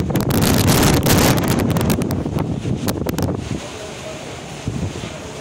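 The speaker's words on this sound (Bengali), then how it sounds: "অ্যান্ড কি জোরে জোরে বৃষ্টি" Heavy rain and strong wind from Cyclone Remal, a loud roaring wash with gusty buffeting at first that eases into a softer steady hiss, with some voices in the background.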